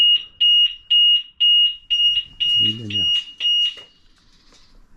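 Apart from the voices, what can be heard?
motorcycle alarm beeping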